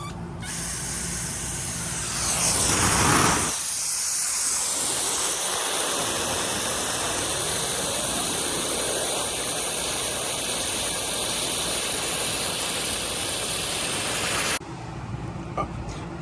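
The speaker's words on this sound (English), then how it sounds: "water's starting to trickle out there" Water rushes and hisses steadily out of a well pump line as an air bubble is flushed, loud and continuous for most of the stretch, then cutting off sharply near the end.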